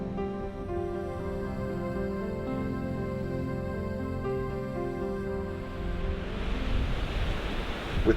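Steady broad wash of ocean waves near a coastal campsite in Australia, rising into a louder surge toward the end, mixed with sustained tonal music-like hum and no talk.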